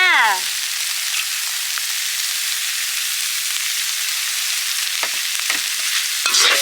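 Khi lek (cassod tree) flowers stir-fried in a pan on a rainy day, giving a steady, close hiss of sizzling that runs throughout, with a few soft scrapes of stirring near the end and no talking.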